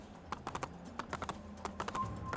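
Horse hooves clip-clop in the open world of the Assassin's Creed video game, a quick, irregular patter of light taps at moderate distance, alone with no talk.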